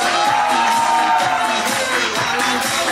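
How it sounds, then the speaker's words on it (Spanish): A television studio audience on a Chilean dance show cheers and claps loudly, a dense, continuous crowd roar with scattered whoops close by. "Fuerte el aplauso para la estupenda Fernanda Brown."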